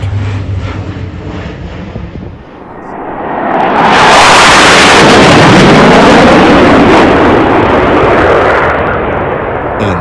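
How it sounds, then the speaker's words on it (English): Fat Albert, the Blue Angels' C-130 support aircraft, roars past at an air show, its engine noise swelling from a distant drone into a loud, broad rushing pass that lingers as it moves away. "Here is the Blue Angel support aircraft, affectionately called Fat Albert."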